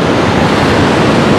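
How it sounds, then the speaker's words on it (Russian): Storm waves crash onto the beach at Dzhemete in Anapa, making a loud, dense, continuous roar of surf mixed with wind buffeting the microphone, with no voices. "очень наглядно видно, какие широкие сегодня накаты от волн на пляже происходят"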